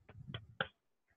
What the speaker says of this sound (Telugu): ఎవరైతే వర్క్ చేశారు అందరూ క్లాప్స్ కొట్టండి